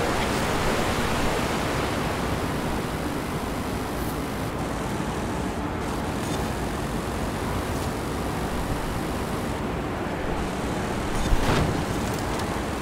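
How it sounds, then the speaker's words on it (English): A steady, broad roar of rushing water from a waterfall in the video game Forza Horizon 5, continuous and fairly loud throughout with little variation, no voices over it. "Look at that waterfall, man."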